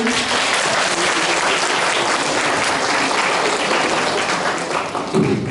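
Loud, sustained applause from an audience at a VietFest press conference, a dense continuous wash of clapping at even strength that tapers slightly near the end.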